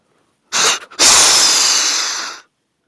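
A hunter imitates a whitetail buck's snort-wheeze call by voice, up close and loud: a sharp short snort, a brief catch, then a long, forceful airy hiss that fades out after about a second and a half.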